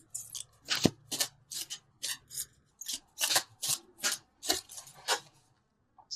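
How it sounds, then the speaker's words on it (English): Tarot cards pulled and slid from a deck during a love reading, a run of short dry rustling swipes and flicks at a steady rhythm, close and fairly quiet. "So let's pull a couple universal love cards."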